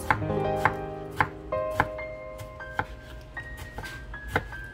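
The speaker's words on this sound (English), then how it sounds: "if you like to make a small tiny piece you always can chop like small little piece like that" A knife chops fresh salsa ingredients on a board in sharp, evenly spaced strikes, roughly two per second, up close, over faint background tones.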